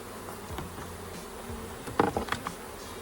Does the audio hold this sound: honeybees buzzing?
yes